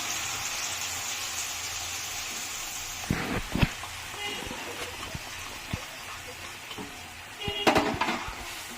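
Spice paste going into hot oil in a pan: a steady, broad sizzle sounds throughout, with a few sharper clatters as it is stirred, close up and with no speech.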